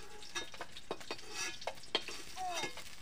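Charapona fish frying in oil in a wok, with a steady broadband sizzle broken by several sharp clinks and scrapes of a utensil against the pan, close up and with no talking.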